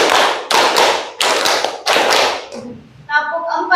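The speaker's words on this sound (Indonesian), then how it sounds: "Tepuk 1, tepuk 2, tepuk 3, tepuk 4, tepuk 4 2 kali" Four bursts of hand clapping from a group, counted out one to four in a taught pattern, loud and close with a steady beat, and a brief faint voice trails off at the end.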